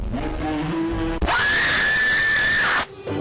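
A sudden, loud, piercing scream from a jump-scare screamer bursts in after a lower droning tone, holding a harsh, shrill pitch for about one and a half seconds before cutting off abruptly.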